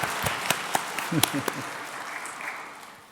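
A church congregation at a Sunday evening baptism service gives scattered claps, a handful of separate sharp hand claps early on with brief speech mixed in, then the sound fades into quieter room noise.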